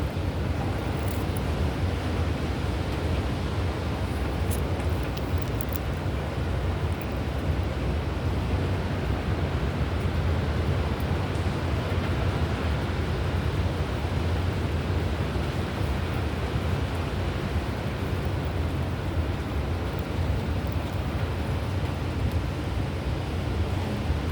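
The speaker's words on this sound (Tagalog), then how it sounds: "Ayan, lakas na naman ang hangin." Strong, gusty typhoon wind roars steadily and loudly into the microphone for the whole stretch, a constant rushing buffet with no voices.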